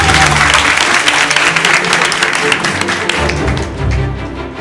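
A crowd applauds a candidate at a debating event, a loud, dense burst of many hands clapping that holds steady and then eases slightly toward the end.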